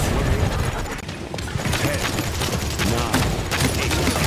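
Rapid gunfire from a video game pours out as a dense, loud, continuous barrage of overlapping shots, with voices faintly mixed in.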